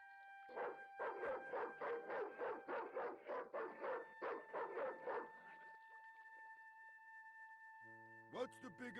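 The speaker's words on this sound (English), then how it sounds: "The dog went berserk for no apparent reason." A dog barks in a fast, frantic volley of about a dozen sharp barks over a steady electronic hum in the Broken Sword 2 video game, then falls quiet before other game sounds begin.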